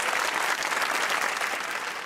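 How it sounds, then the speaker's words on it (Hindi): Studio audience on a Pakistani TV talk show breaks into steady, dense applause, loud and continuous throughout with no pauses. "जोर की तालियां"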